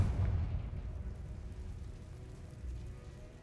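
The fiery Confringo blast spell in Hogwarts Legacy: a deep, rumbling explosive burst that hits at the start and tails off into a fading low roar, with a slight swell late on.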